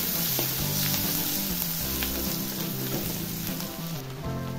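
Onion frying in oil with mustard seeds and cumin sizzles steadily and close, a dense crackling hiss with soft stirring scrapes, low background music tones running underneath throughout.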